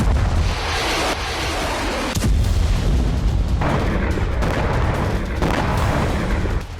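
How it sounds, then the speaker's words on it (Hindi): Heavy artillery shelling in the Donetsk war zone: a loud, dense, continuous roar of booms and blasts, with a sharp impact cutting through partway. "डोनेत्स्क के वॉर ग्राउंड में भीषण बारूद बरस रहा है।"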